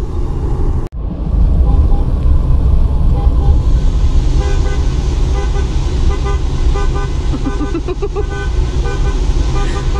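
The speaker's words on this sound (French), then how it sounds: "Les camions klaxonnent à tout va, les gens aussi." Cars and trucks honking in a long traffic jam at the border crossing between Serbia and Croatia, with repeated horn toots of varying length over a steady idling engine rumble, close and loud.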